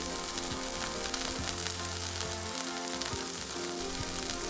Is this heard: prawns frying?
yes